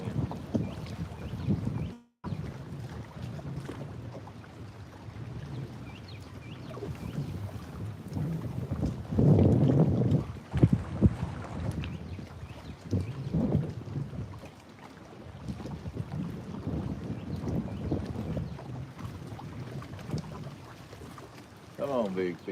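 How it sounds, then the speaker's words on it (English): Steady wind buffeting the microphone on the Tennessee River, a rough low rumble with gusts that swell and fade, while someone talks over it throughout. "Man, I know that wind's got to be loud on there."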